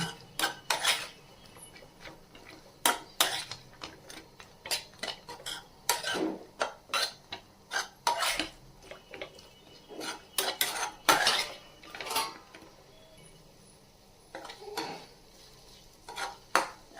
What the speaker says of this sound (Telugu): యాడ్ చేసుకున్న తర్వాత ఒకసారి అంతా కలుపుకోండి.